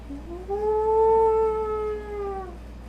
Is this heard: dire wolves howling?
yes